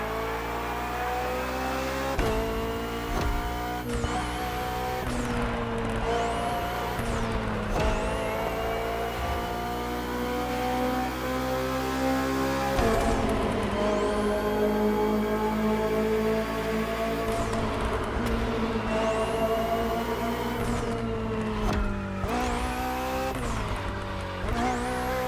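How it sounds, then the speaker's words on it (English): A BMW M Hybrid V8 endurance race car from 2023 in The Crew Motorfest, its engine loud and close, revving hard through repeated upshifts with rising and falling pitch sweeps and occasional tire squeal. "Finally, the BMW M Hybrid V8. What a beast."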